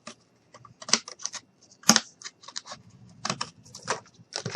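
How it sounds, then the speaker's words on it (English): Material for a mini camper model is cut by hand in a series of short, crisp snips and clicks, irregular in rhythm, close and fairly quiet against near silence. "I'm going to go ahead and cut here."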